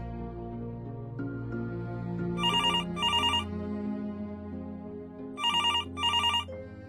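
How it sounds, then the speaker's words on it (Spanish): A telephone rings twice in pairs of bright electronic trills, each ring made of two quick bursts, heard clearly over soft background music. "Su teléfono timbró."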